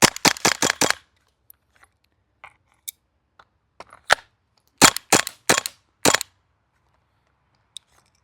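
An airsoft MP7 with gunk buildup fires BBs in sharp, loud, close bursts of several rapid cracks, then stops with jams, sending out a few isolated pops and quiet gaps between the volleys.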